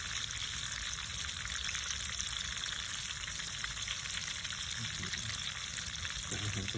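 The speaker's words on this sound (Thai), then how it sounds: "เราก็ทอดไปเรื่อยๆใจเย็นๆ" Chicken deep-frying in oil over a slow, patient heat, a steady dense sizzle and crackle filling the space evenly and up close, with no talk over it.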